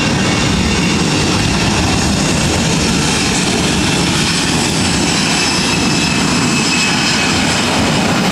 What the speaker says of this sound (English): This is Delta Airlines 2272 taking off to San Francisco on the A320.